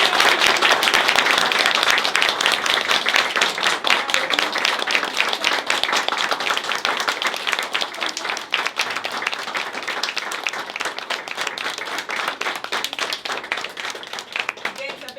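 Applause from an audience at a children's center performance of The Little Mermaid, with dense continuous clapping that is loud at first and eases slightly as it runs on throughout.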